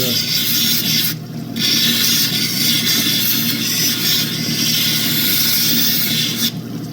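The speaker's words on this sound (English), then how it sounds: "This is a 1200 grit, soft, expandable wheel, 3-inch." A 1200 grit soft expandable 3-inch wheel grinds opal, giving a continuous loud abrasive rubbing hiss with brief dips where contact eases.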